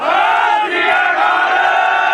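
A large crowd roars a Sikh jaikara response in unison, loud and close, a sustained chorus of many voices shouting together for about two seconds.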